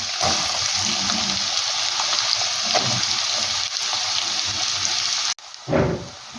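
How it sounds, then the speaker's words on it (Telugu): Onion pieces fry in hot oil with a continuous moderate sizzle close by, broken by a sudden cut near the end, then brief stirring noise. "నూనెకి అయింది కదా, ఉల్లిపాయ ముక్కలు వేస్తున్నాను"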